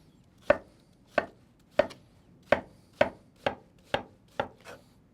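A knife slices through juicy, wet watermelon pieces for a watermelon and feta salad, with eight or nine sharp chops hitting the board at a steady, quick rhythm, close and clear.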